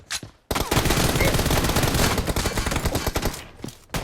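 Rapid pistol gunfire in a one-on-one shooting video game match, a dense loud burst of repeated shots running for about three seconds after a brief quiet start, then tapering off.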